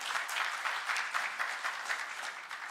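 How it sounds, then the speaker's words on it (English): Steady applause from an audience at a business summit in Kisumu, Kenya, dense clapping that continues evenly throughout without voices on top. "Please give him a warm round of applause."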